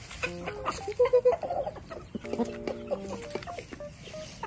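Chickens and chicks clucking and chirping in a farmyard, several short overlapping calls scattered close by at moderate loudness, with faint background noise and no speech.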